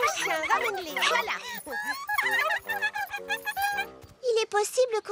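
Cartoon dogs bark, yip and whimper in a children's animated show, with excited voices and music mixed in, the yelps coming in quick bursts before a high whining cry at the end.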